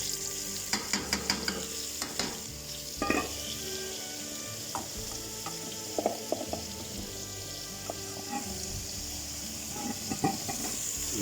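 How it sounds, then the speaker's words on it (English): Meat fat and oil fry in a hot pan while making spaghetti bolognese, a quiet steady sizzle with occasional clinks and stirring scrapes close by. "You want that to fry, you don't want that to be boiling."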